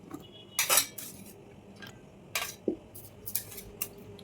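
Paneer pieces dropping into a metal pan for paneer tikka, a few sharp clinks and scrapes of utensil on cookware at irregular intervals, close and moderately loud, no talking.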